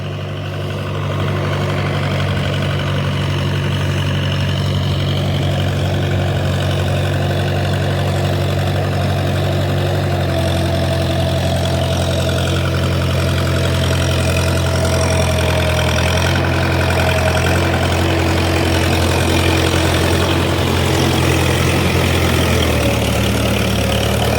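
A tractor engine idles steadily and close by on a farm in Durg, Chhattisgarh, a continuous low chugging drone that holds the same level throughout with no voices.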